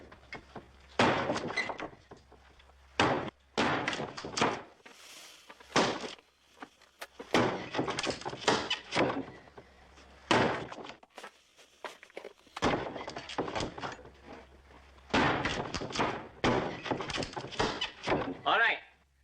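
A wooden door is chopped down with repeated heavy thunks and splintering knocks at an irregular rhythm, mixed in with people talking.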